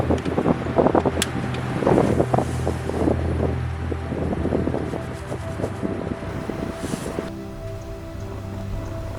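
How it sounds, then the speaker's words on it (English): Strong wind buffets a mountain-top campsite in the Ouachita National Forest, a steady roaring gust noise with rough microphone rumble that eases somewhat toward the end. "this morning the wind was still going"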